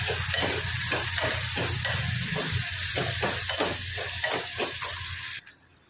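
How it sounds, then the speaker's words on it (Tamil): Garlic sizzles steadily in hot oil in a pan, a loud continuous frying hiss broken by rhythmic stirring scrapes, cut off sharply near the end. "இப்போ வந்து பூண்டு வந்து ஒரு ஒன் மினிட்டுக்கு அந்த ஆயிலே கொஞ்சம் வதங்கணும்"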